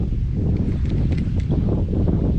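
Strong wind buffets the microphone at a fishing spot on the water, a constant low roaring rumble with gusty flutter and no voices.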